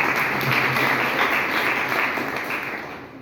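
Steady, dense applause from a crowd at a community conference in Manakpur, Ambala, filling the whole stretch at even loudness with no speech over it.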